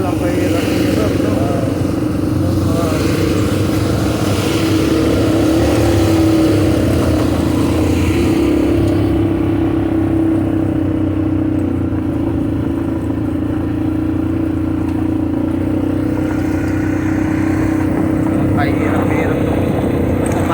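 An ATV engine drones loudly and steadily on a ride on Mayon Volcano, with a sustained mid-pitched hum, wind noise and people talking over it.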